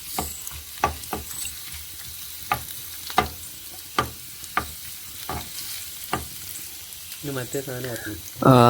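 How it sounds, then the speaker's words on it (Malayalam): Finely chopped ginger fries in hot sunflower oil in a saucepan for egg bhurji, a soft steady sizzle punctuated by regular sharp scraping strokes from stirring, with a voice starting to speak at the end. "സൺഫ്ലവർ ഓയിൽ ഒഴിച്ചു ചൂടായതിന് ശേഷം ഇഞ്ചി ഇടുക"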